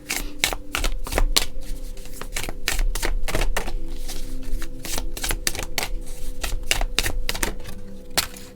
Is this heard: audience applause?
no